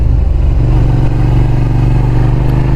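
A 2006 Suzuki SV650S motorcycle in unrestricted 74-horsepower form runs loud and close while being ridden, its engine giving a steady, throbbing drone with a low pulsing rhythm.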